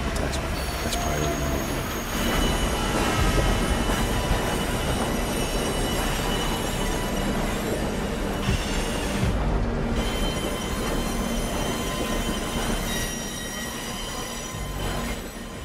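Train rolling past in the video game Sniper Ghost Warrior 2, a loud, steady rumble of rail cars with metallic wheel squeal running throughout, close by and continuous.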